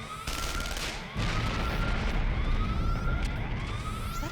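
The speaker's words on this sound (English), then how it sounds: "Someone turn off this damn siren." Video game scene with a wailing alarm siren rising and falling continuously, overlaid by bursts of gunfire and rapid shots, loud and dense throughout.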